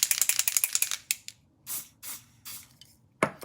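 A makeup setting spray is misted onto a brush: about ten rapid, crisp pump-spritzes in a quick run, then a few separate, longer hissing sprays after short pauses, close and clear.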